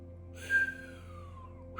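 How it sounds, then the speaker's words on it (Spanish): A person whistles a single sliding note, starting high and gliding slowly downward, fairly faint and close against a quiet background with a low hum, followed by the start of another whistle. "Pues eso, silbar."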